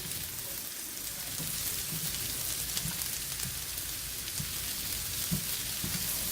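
Mushrooms sautéing in butter over low heat give a steady, close, even sizzle and crackle, alone without any voices, holding at a constant level throughout.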